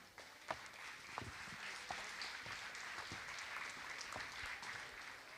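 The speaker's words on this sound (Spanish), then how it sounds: "Le damos la bienvenida a Liz Fabro con este aplauso." A seated audience applauds at a talk on music and dementia, giving a steady, moderately distant wash of clapping with a few louder individual claps, and no speech over it.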